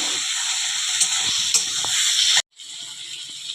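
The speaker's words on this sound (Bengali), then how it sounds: "এরপর বাঁধাকপিটা ঢেলে দেবো।" Washed cabbage poured into a hot pan, with a loud steady sizzle and hiss that stops abruptly and then resumes more quietly.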